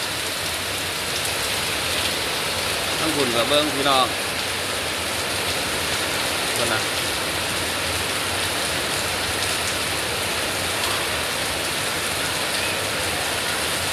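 A steady hiss of heavy afternoon rain fills the whole stretch while a person talks briefly near the start.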